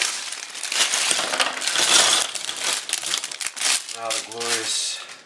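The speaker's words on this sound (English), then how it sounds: "The glorious sound of pieces falling out of the bag." Plastic LEGO pieces for set 44010 Stormer tumble and clatter out of a crinkling bag in a busy rattling cascade; a short voiced murmur sounds near the end.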